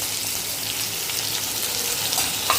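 Cumin, dried chilli, curry leaves, shallots and ginger garlic paste sautéing in a pan give a continuous close hiss and sizzle with occasional light crackles and no voices.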